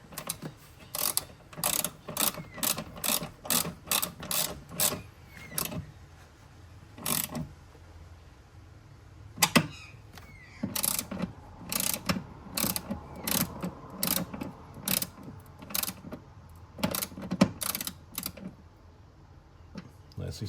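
A ratchet clicks in quick repeated bursts while strut brace bolts are snugged up on a Subaru WRX, close by, with brief pauses between runs of rapid clicking.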